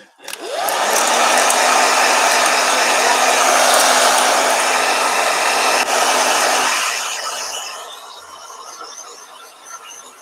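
Blow dryer switched on and running steadily with a loud, close whooshing roar and a faint whine, then its airflow drops away and fades near the end.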